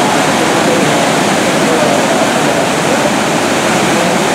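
Waterfall on the Akerselva River in Oslo heard from the top of the falls, a loud, dense, continuous rush of falling water that fills the whole clip without pause.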